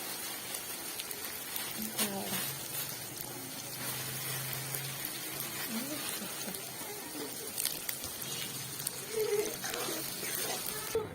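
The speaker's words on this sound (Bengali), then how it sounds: "পেঁয়াজ ভেজে নিচ্ছি।" Onions frying in ghee for a winter vegetable khichuri, a faint steady sizzle and crackle like light rain with soft spatters, continuous at low level with quiet voice-like sounds underneath.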